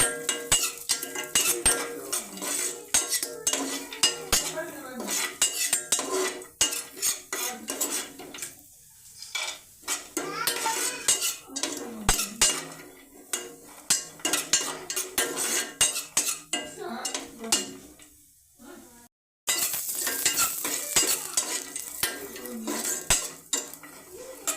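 Cashews roast in a pan, stirred with a metal spoon that scrapes and clinks steadily against the pan, with a couple of brief pauses.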